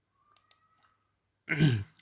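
Two quick, faint computer mouse clicks while working in AutoCAD come close together near the start. After a pause there is a short, breathy vocal sound.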